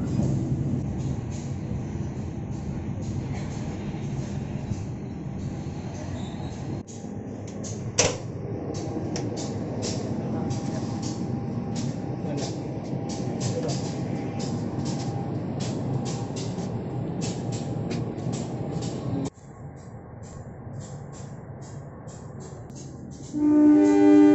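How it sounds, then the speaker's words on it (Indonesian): A cargo train passing at night near a Bandung locomotive depot, a long steady rumble with rhythmic clacking of wagons, fairly faint and sustained before easing off near the end. "ada kereta kargo atau yang bisa kita singkat menjadi kekar, kereta kargo"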